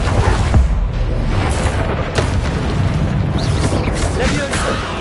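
Fiery Confringo blast spell from the Hogwarts Legacy video game on PS5, a loud booming burst at the start that rolls into a dense, rumbling roar of combat effects under constant game noise.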